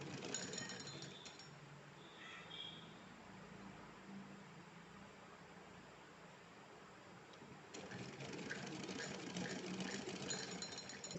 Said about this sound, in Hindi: चलिए तो मैं सिलकर दिखा देती हूँ।